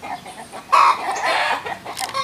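Ameraucana chickens, a blue-egg breed kept in trays alongside other breeds, cluck and call nearby, with one louder squawk standing out among softer, scattered clucks and general coop bustle.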